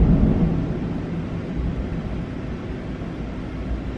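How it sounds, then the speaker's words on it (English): Distant thunder rumbles low and continuously for several seconds, a deep rolling sound with no voices. "It's rolling thunder."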